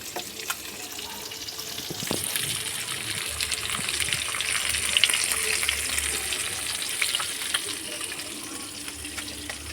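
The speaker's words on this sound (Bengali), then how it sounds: "মাছ ভাজা বসিয়েছি দেখো" Fish frying in hot oil sizzles and crackles, a steady bright hiss with occasional pops, close by and fairly quiet.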